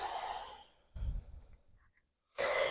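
A deep breath during a gentle chair yoga class, a long airy exhale followed by a pause of near silence and then a fresh rush of breath, close and soft.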